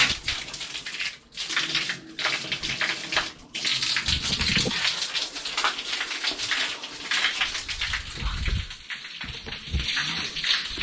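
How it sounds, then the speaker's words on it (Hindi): Water gushes steadily from a bull's mouth spout at the Anthargange cave temple, a loud, continuous splashing stream close by with brief dips, and no talk. "पानी बेसिकली यहाँ से आ रहा है. बुल्स माउथ और यहाँ से आता है पानी."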